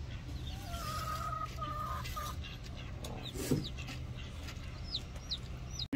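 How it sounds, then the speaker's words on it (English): A mother hen clucks softly over her newly hatched chicks, a few low, faint clucks over quiet background noise, with faint chirps nearby. "Our chicken laid eggs and then two babies came out."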